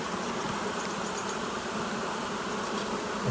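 Honeybees in hive boxes (small nucleus hives) humming in a continuous, dense buzz, close and steady, with no talking.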